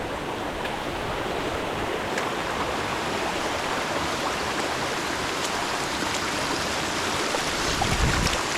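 Cool stream water flowing along the Kabash hiking trail near Pogradec, Albania: a steady, close rush and babble that holds at an even level throughout, with no voices.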